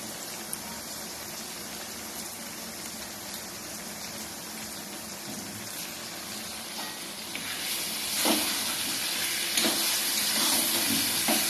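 Ginger and cumin paste with chili powder frying in a pan for homemade chicken biryani, a steady close sizzle and hiss that grows slightly louder near the end, with occasional clinks.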